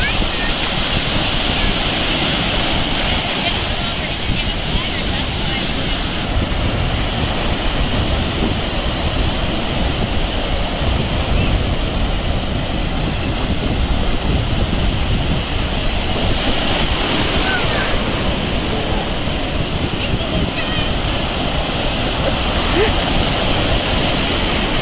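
Ocean surf breaks at a surfing competition as a loud, continuous roar of crashing waves with gusty wind buffeting the microphone throughout.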